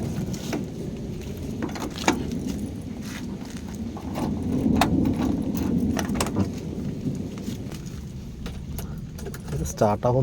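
A car is started and moved a short way during a rainstorm, with keys jangling, a low engine rumble and patter of rain, plus muffled voices and a few sharp knocks.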